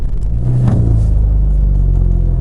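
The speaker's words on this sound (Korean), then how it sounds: "강력한 배기음이 확실히 일반 모델과 다르다는 부분을 전달하고 있고요" MINI JCW convertible engine firing up after the start button is pressed, a loud burst of revs that settles into a deep, steady exhaust rumble close by.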